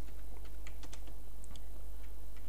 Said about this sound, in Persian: تایپ میکنم